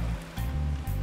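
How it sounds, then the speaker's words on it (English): Ocean waves break on the shore along the Honduran coast, a continuous rushing wash with soft surges, heard alone at a moderate distance. "The waves can be treacherous here."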